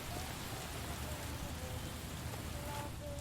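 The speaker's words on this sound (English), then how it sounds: "Oh, it's raining, man." Rain falling in the video game L.A. Noire, a soft continuous patter with a low rumbling bed beneath, faint and steady throughout.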